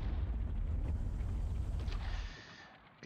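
A heavy explosive barrage fired at an enemy squad in a Squad Battles: Red Victory war game, a deep rumbling boom that rolls on for a couple of seconds and then fades, with no talking.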